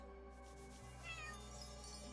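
A cat meows in the fantasy role-playing game Chained Echoes, sounding over a steady musical background with one short, fairly clear call near the middle.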